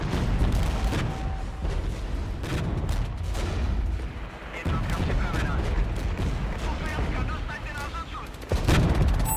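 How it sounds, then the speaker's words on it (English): Heavy artillery fire in the war video game Regiments, a dense continuous rumble of booming barrages and overlapping blasts at steady loudness, with a stronger impact near the end. "We're going to drop so much heavy artillery here."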